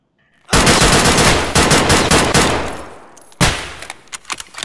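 Rapid automatic gunfire in a video game bursts loudly, a long sustained volley followed by a brief pause and another sharp burst with scattered shots.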